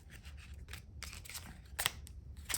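Tarot cards being shuffled by hand, a run of quick papery riffles and slaps coming close and fairly quiet, with a couple of sharper snaps near the end.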